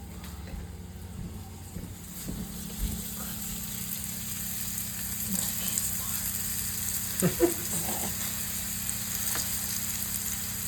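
Food fries steadily in hot oil with a continuous sizzle and occasional stirring clatter, kitchen hum underneath and a few brief background voices.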